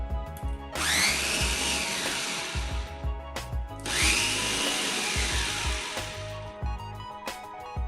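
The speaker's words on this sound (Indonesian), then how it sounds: "selanjutnya blender secara bertahap seperti ini." An electric blender whirs loudly through mung beans and water in two long bursts, each starting abruptly and settling into a steady grinding roar before cutting off, with clicks and brief pauses between runs.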